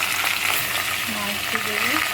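Tomato hitting hot oil in a frying pan for chicken stew, a loud steady sizzle with stirring scrapes and faint tonal squeaks, close by with no talk.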